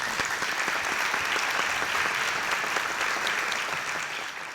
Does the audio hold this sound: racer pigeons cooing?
no